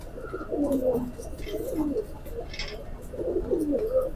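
A female Rampuri teddy pigeon coos softly nearby in a few short, repeated throaty phrases against a quiet background.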